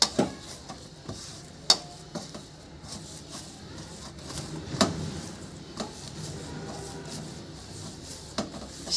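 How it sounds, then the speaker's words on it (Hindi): Chhena and flour are worked together by hand into rasgulla dough in a bowl, with steady soft kneading and rubbing, scattered clicks and taps against the dish, and no talking. "फिर से इसे अच्छे से मिक्स कर लेते हैं।"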